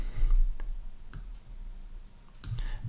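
Sparse computer mouse clicks while retouching lights in Photoshop, four or five light taps spread unevenly over a soft room hiss.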